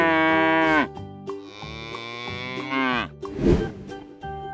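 Cows moo in long, loud, close calls, one drawn-out low moo following another, with a rougher bellow near the end.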